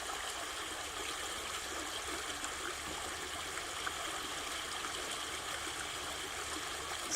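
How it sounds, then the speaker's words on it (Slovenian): A stream flows in a steady, even rush of water with a soft trickling texture, continuous and moderately close, with no other sounds. "usmerimo na ta šum tekoče vode, na ta pogled na tekočo vodo"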